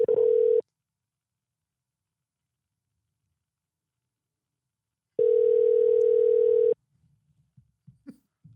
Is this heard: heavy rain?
no